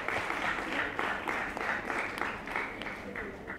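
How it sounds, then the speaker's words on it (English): Audience applause in a hall at a Children's Day special event, a dense wash of many hands clapping steadily and fairly close for several seconds, with some voices mixed in underneath. "I think that deserves a round of applause."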